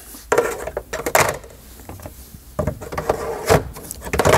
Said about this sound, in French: vous remettez le réceptacle du fond, le filtre, vous poussez et votre hotte se referme